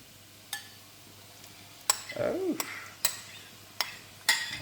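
Steak being stirred in a pan with tomato juice added, a few sharp spoon clacks against the pan with a soft wet sizzle and scrape between them, close, no talk.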